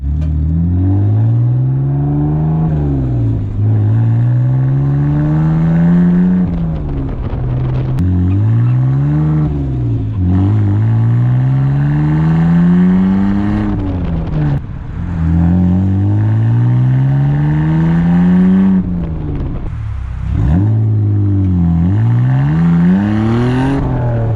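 A BMW E46 with its muffler deleted revs repeatedly, each loud, raspy exhaust note climbing and then dropping back in several long pulls, close and without talk.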